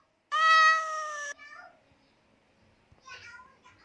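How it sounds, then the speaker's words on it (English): A single clear cat meow rings out loudly in an animal-sounds naming game, followed by brief trailing calls and soft child-like chatter near the end. "Point at the cat."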